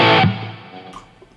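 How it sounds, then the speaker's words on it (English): An electric guitar through a Friedman Pink Taco amp on high gain with a touch of reverb: one loud, distorted chord struck and left to ring, decaying over about a second. "That's got quite a bit of gain."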